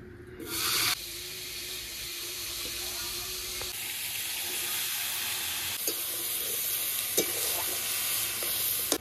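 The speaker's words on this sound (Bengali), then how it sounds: "এবার ওই তেলের ভেতর ঝিঙা আর হচ্ছে আলুটা দিয়ে দেব" Ridge gourd and potato sizzle in hot oil with cumin seeds, a steady broadband frying hiss running throughout, joined by a few light utensil clicks and scrapes at close range.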